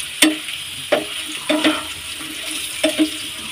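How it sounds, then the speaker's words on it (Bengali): Vegetables frying with turmeric in a pan, a soft continuous sizzle broken by several spoon-against-pan stirring scrapes at irregular intervals, close and alone. "হলুদটা দিয়ে একটু নাড়াচাড়া করে নেব, সবজিগুলোর মধ্যে মিশিয়ে নেব আর কি।"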